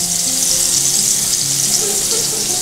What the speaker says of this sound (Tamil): கலப்படம் இல்லாத மசாலாவோட மீன் ஃப்ரை